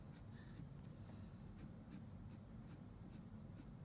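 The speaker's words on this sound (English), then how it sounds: "I'll pick up my 4B, and I'll extend these pencil lines a little further." A soft 4B graphite pencil draws lines on paper for a value worksheet, giving a steady run of short, rhythmic scratchy strokes, close and clear over a low constant hum.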